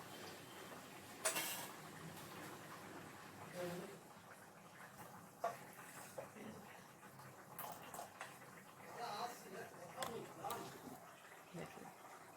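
Dosa batter beaten by hand in a bowl, soft irregular slapping and stirring sounds with occasional clinks, faint under someone talking.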